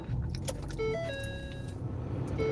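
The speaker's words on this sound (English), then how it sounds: "I'm going to turn the car on again." A car's engine turns over and settles into a low idle inside the vehicle, with small chimes and clicks from the dashboard.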